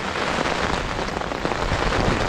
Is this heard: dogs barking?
no